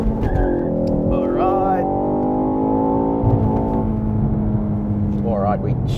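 Ford Focus ST engine revving up to the rev limiter in second gear, a rising, sustained engine note that holds and stutters near the top, loud and close, with a voice heard briefly over it.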